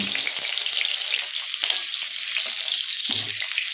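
Potatoes frying in hot oil in a kadai, a close, continuous bright sizzle with occasional soft stirring knocks.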